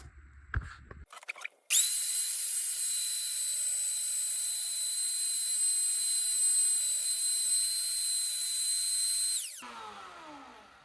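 Router cutting a bridge cavity into a guitar body, with a few handling knocks before a loud, steady high-pitched whine runs for about eight seconds and then winds down.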